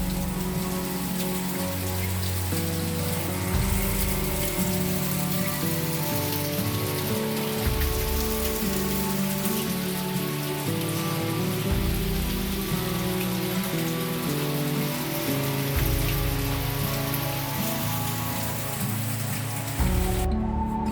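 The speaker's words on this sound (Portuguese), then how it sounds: "Chuvinha abençoada." Steady rain falls and patters on surfaces, a dense continuous hiss that persists unbroken alongside low, sustained background tones, with no voices.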